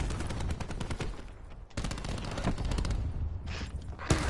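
Rapid bursts of gunfire from the video game Black Ops 4, loud and dense with a few brief pauses between volleys, no talking.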